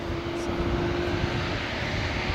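A Singapore Airlines airliner flies in to land at Singapore, its engines a steady broad roar with a constant tonal whine, close and loud throughout without any talk.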